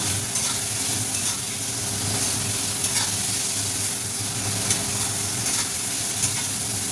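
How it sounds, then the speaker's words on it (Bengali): Small pointed gourds (potol) sauté in oil in a pan, giving a dense, even sizzling hiss that runs unbroken at close range, with faint stirring pops now and then. "দেখো পটল দিয়ে আমি কষিয়ে নিয়েছি।"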